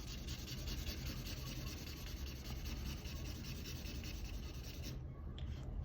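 A pencil shades a small shadow on the ground beneath a drawing of Tanjiro. It makes a continuous, close scratchy rubbing that stops briefly near the end.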